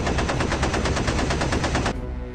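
Rapid, loud burst of machine gun fire from a B-17 bombardier's gun in a World War II bomber air battle, sustained for about two seconds then cutting off abruptly, with no talk.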